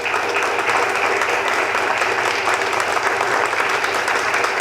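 An audience claps steadily in sustained, dense applause that fills the whole stretch without pause.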